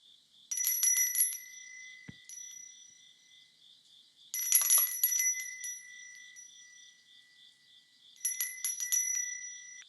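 A prosperity bell carved from kiwi wood is struck three times, each bright metallic ring sustaining and fading in quiet before the next, evenly spaced and close.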